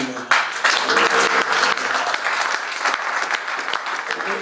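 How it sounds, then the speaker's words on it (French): Dense, loud applause from an audience at a book signing and dedication event, steady clapping throughout with no break. "Ça mérite un encouragement, une acclamation"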